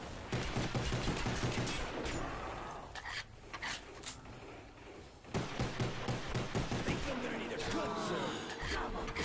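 Gunfire from players shooting zombies in Call of Duty Black Ops Zombies co-op on the Ascension map, with repeated bursts of shots and thuds throughout, mixed with game effects and voices talking over it.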